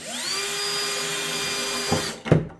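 A power drill whines steadily at high speed for about two seconds while drilling a hole in a wooden interior door, then cuts out, followed by a couple of sharp knocks. No one speaks.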